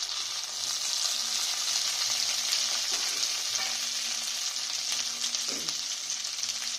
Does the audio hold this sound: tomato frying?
yes